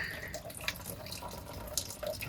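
Water gushes steadily out of a Maruti Esteem's radiator during a flush, a faint continuous splashing flow with small spatters.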